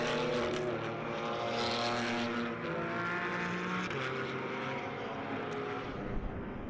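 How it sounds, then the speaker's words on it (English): A field of Pirelli GT4 America race cars, led by an Acura NSX, rolls through the pace and installation lap at Las Vegas Motor Speedway: a steady, loud multi-engine drone with layered humming tones that shift in pitch, no talk. "as the field is out on the pace and installation lap, the Acura NSX leads them through"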